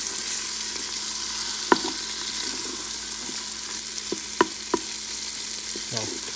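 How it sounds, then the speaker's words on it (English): Tomatoes fry and soften in a pan for a lamb curry as a spoon stirs them, with a steady close sizzle and a few sharp scraping clicks against the pan. "just mix it properly so that the tomatoes become nice soft"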